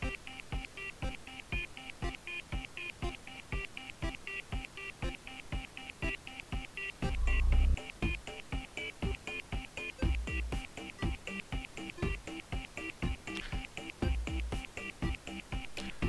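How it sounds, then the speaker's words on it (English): 8/16-bit chiptune music from Bit.Trip Beat plays steadily, with bright beeping square-wave melodies over a ticking rhythmic pulse and a few deeper bass thumps, and no voices. "the whole game seems to be very much 8/16-bit, we've got very much bit sounds"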